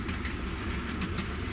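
A model train rolls over its track with a steady, close rumble and faint rhythmic clicking, continuous and alone throughout.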